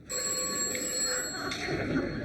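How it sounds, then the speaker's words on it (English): An old telephone bell rings steadily indoors in a wartime British home, a continuous loud electric trill filling the short moment with no talk over it. "Answer the phone, Anthony."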